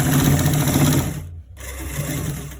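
Sewing machine stitching a design onto trousers, a fast steady mechanical whir that cuts out briefly, then resumes.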